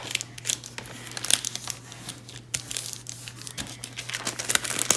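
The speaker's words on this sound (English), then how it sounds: "And I'm going to fold it over." A sheet of paper is folded by hand for a DIY pocket tag, making close, continuous crinkling and rustling with small crisp creases, and no voices.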